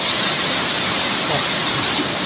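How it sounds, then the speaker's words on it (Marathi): Waterfalls roaring at night in a forested area, a loud continuous wash of rushing water filling the whole clip without break. "आणि ठेसाळणारे धबधब्यांचा आवाज,"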